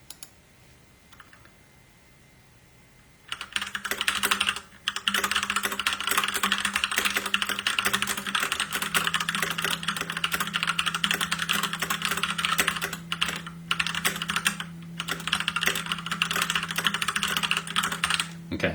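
NACODEX K680T 60% mechanical keyboard with brown switches, typed on steadily and close up after a quiet start, giving a dense stream of soft clacks with a brief pause partway through.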